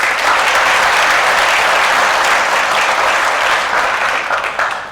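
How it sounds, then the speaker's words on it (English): Loud, dense applause from a company gathering at a monthly celebration welcoming new second-shift staff, steady clapping from many hands lasting several seconds and tapering slightly at the end. "Let's have some applause."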